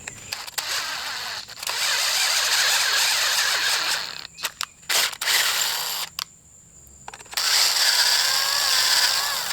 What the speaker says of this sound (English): I'm going to run the drill in here first.